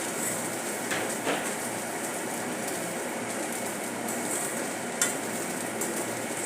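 Sabudana khichdi with freshly added coriander stirred in a pan, a soft continuous scraping and sizzle with a few brief utensil clinks, moderately close and steady throughout.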